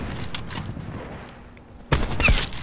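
A sniper rifle shot fired in a one-on-one video game match, a single sharp crack after a quiet stretch, followed by brief mechanical clatter.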